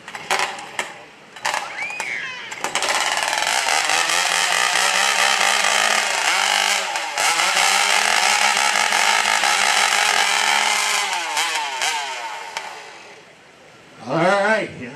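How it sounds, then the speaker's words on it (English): Racing chainsaws at an outdoor lumberjack show fire up and rev hard, a loud, close, sustained high-pitched engine roar with rising and falling revs, then a final sharp rev burst near the end. "these saws are very loud"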